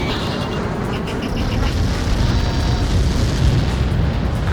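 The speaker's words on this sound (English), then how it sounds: "How many got caught in that explosion?" A missile impact explosion from Ace Combat 7, a massive Helios projectile blast, rolls on as a loud, sustained, roaring rumble that never lets up.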